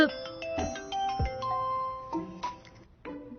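A bright electronic phone ringtone plays a melodic tone pattern, fairly quiet and close, with a brief gap before it repeats.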